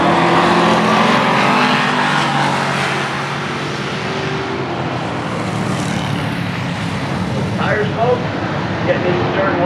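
Street stock race cars roar hard into turn one and brake, a loud continuous engine drone sweeping past on the track while an announcer talks over it.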